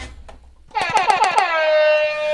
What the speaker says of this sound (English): the air horn I use